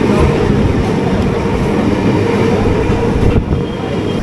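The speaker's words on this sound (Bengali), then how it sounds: "এখন ট্রেন তো এসে গেছে, ট্রেনে উঠে পড়ি।" Kalyani Simanta local train pulling into the platform at Sodepur station, a loud and steady rail rumble with wheel clatter that fills the whole stretch, close by and with no talk over it.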